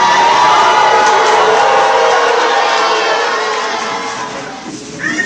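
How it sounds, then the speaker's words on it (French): A church congregation at a prophetic service in Côte d'Ivoire shouts and cheers Hallelujah together, a loud, sustained crowd roar that fades slightly toward the end with a brief rise of voices at the close. "Est-ce que tu peux te lever pour crier Alléluia?"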